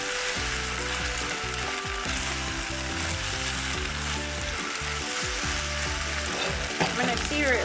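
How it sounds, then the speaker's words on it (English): Flat rice noodles searing in a hot pan for pad see ew make a strong, close, continuous sizzle. A faint tonal background sits under the frying, and there is no speech. "Give it some time to sear the noodles."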